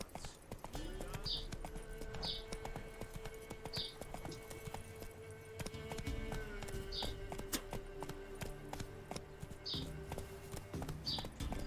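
Rhythmic hoofbeats of the horse Roach galloping in The Witcher 3, a steady clip-clop running throughout under game music and light ambient effects.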